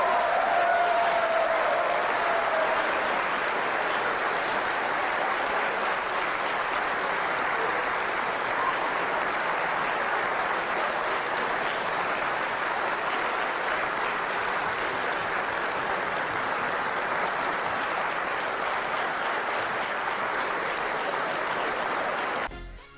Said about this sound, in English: They were clapping and cheering and all of that.